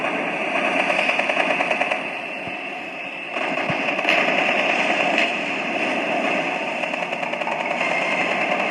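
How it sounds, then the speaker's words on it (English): Warship guns fire continuously in the Warship Craft game on a custom cruiser and aircraft carrier, with a steady mechanical drone and rapid repeated shots throughout. "Okay, here comes the A guns."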